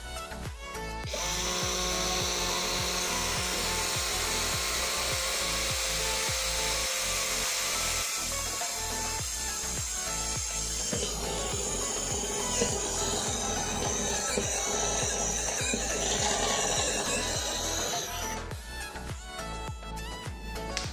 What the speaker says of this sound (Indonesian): saya menggunakan mata bor step drill maksimalnya di 12 mm